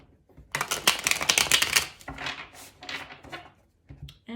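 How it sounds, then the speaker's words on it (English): Rapid riffling of a tarot card deck being shuffled close by, a dense flurry of crisp flutters followed by a few softer taps. "We'll do one last shuffle."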